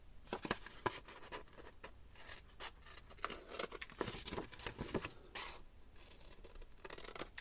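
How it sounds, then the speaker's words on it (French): Small scissors snip a little corner off a paper pop-up card, a series of faint, close crisp cuts and paper rustles with no talking. "Ici on va venir couper le petit coin."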